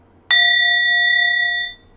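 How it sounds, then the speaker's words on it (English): A singing bowl is struck once, giving a clear, close, sustained metallic ring with bright overtones that holds steadily for about a second and a half before fading out. "I start by ringing my singing bowl"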